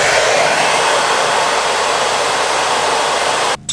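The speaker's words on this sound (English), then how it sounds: "I'm gonna get the blow dryer and try and thaw the rest of this out" A blow dryer roars at a steady, loud pitch as it thaws frozen pipes at an off-grid cabin, running without a break until it cuts off abruptly near the end.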